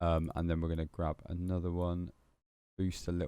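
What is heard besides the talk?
No distinct noise like a dog, phone or traffic.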